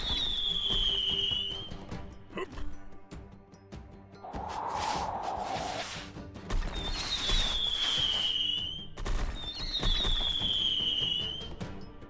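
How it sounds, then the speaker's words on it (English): Cannon fire in the game The Wilds of Dacrima: several incoming shells whistle down in falling tones, with a rushing, rumbling blast in between over a steady background din. "Incoming cannon fire, Edric."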